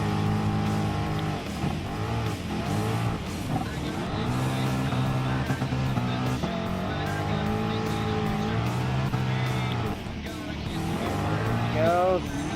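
A Ford Mustang Gr.B rally car slides and revs on an off-road course in Gran Turismo Sport, with a continuous loud engine drone shifting pitch through slides and brief tire scrabble, over a steady game soundtrack.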